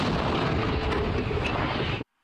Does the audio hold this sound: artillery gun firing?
yes